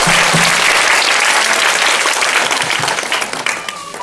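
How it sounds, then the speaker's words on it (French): An audience at a public school ceremony in a farming village breaks into loud, sustained applause, many hands clapping densely before the clapping thins slightly toward the end. "Applaudissez pour vous-même."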